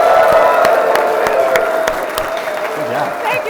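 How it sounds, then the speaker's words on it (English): An audience at a SEMA 2017 presentation breaks into loud, sustained applause for a standing ovation, a dense wash of claps with scattered cheers and voices. "give her the biggest round of applause, standing ovation you've ever seen in your entire life"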